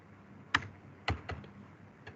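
Keys are pressed on a computer keyboard in a few sparse, distinct clicks, close and fairly quiet, with pauses between the strokes.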